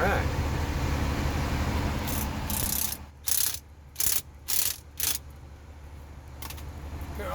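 A hand ratchet tightens hose fittings on a water pump in a 2011 Newell Mini-Tour coach, giving several short bursts of rapid clicking separated by pauses, close up over a steady low mechanical hum.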